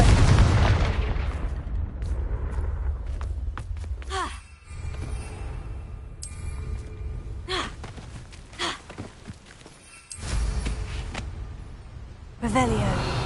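Confringo explosive spell blasts in a Hogwarts game, several booming impacts spread across the stretch over a steady rumbling ambience, with breathy vocal efforts between them.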